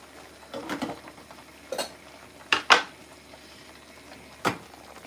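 A lid clanks onto a cooking pot of chayote soup, a few sharp metallic knocks and rattles spaced over several seconds against a quiet kitchen background.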